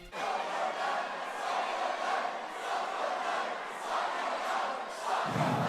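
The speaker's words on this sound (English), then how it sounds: "As he walked out, the crowd yelled a traditional English battle cry." A boxing walkout crowd roars a traditional English battle cry, a dense, steady wall of many voices yelling together with no break, loud and sustained throughout.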